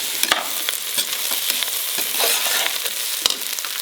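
Peas and carrots sizzle steadily in hot oil in a pan for a vegetable pulao, with a close, bright hiss broken by repeated scraping clicks of a spoon stirring.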